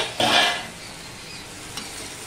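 Mixed vegetables being stirred in a pan, with a short burst of scraping and sizzle near the start, then a quieter steady frying hiss and one faint clink later.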